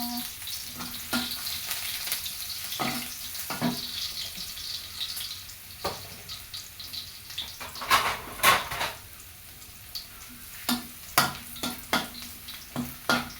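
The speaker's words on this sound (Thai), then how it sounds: "เจียวกระเทียมให้หอมก่อนนะคะ" Garlic sizzles steadily in a hot pan for a Thai ginger chicken stir-fry, with scattered clinks and scrapes of utensils against the pan standing out over the constant frying hiss.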